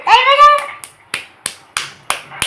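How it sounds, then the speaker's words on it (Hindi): A young girl claps her hands in a brief run of sharp, evenly spaced claps that follow a short vocal sound at the start, recorded close in a quiet home. "वाह बेटी ताली बजा रही है"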